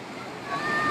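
The wide Araj river, fed by Caucasus snowmelt and about 150 metres across, rushes past as a steady broadband wash that grows slightly louder in a brief, continuous stretch.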